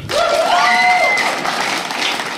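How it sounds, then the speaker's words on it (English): A comedy club crowd claps in a brief, steady burst, with a high squeal riding on top near the start before the clapping tapers. "Clap if you have a cat."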